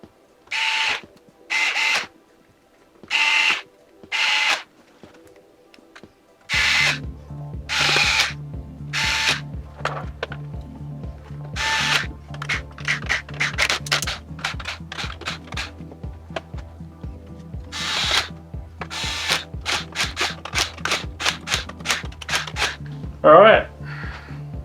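Power screwdriver driving screws to mount a liquid cooler radiator inside a Lian-Li LanCool 207 PC case: several short separate whirring bursts, then a steady motor hum under a long run of repeated close drilling bursts.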